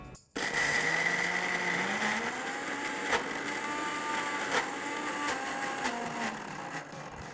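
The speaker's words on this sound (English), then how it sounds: "Let's cover this and grind this into an absolute smooth paste." An electric grinder whirs as it purees peanut butter and green chili into a smooth paste, a loud steady motor whine with a few knocks and slight pitch changes, close and with no voices.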